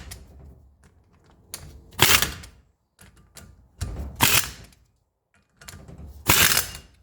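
Wheel nuts on a 1985 Mercedes 300SD front hub snugged up in a star pattern with a ratcheting tool, three separate bursts of rapid ratchet clicks, each ending in a louder spinning rush, with quiet pauses between them.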